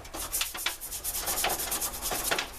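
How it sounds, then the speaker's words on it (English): A stiff bristle brush scrubs over an old draw knife in quick, rhythmic back-and-forth strokes, a close, steady rasping with no talking. "I'm take this little brush, little stiff bristle brush, and I'm gonna scrub on it some."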